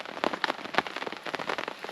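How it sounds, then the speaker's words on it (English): Heavy rain pattering on a camping tarp, dense irregular drops drumming steadily close overhead with no voices. "I don't want to get out there in the pouring down rain"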